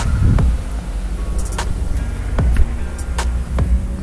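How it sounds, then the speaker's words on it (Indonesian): Steady roar of roadside traffic close by, cars and motorbikes whooshing past in quick succession over a constant low rumble. "Banyak mobil dan motor yang berlalu lalang dengan suara yang kencang."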